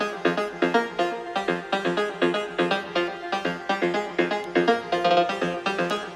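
Layered synth plucks playing a melody together, dense bright rhythmic notes with a steady pulse, loud and close with no voices.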